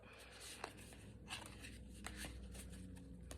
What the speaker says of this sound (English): Difficult to shuffle, but wonderful cards.